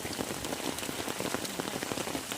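Heavy rain pours steadily outdoors during a river fishing trip, a dense close hiss of drops drumming on surfaces with no pauses.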